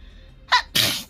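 A streamer gives a loud, close sneeze: a sharp gasping intake, then a strong burst that trails off, with no other voices.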